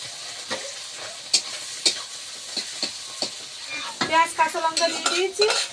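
Onions and green chillies fry in a pan with a soft, continuous sizzle. A utensil stirs and scrapes against the metal in irregular clinks, growing busier toward the end, with no voices.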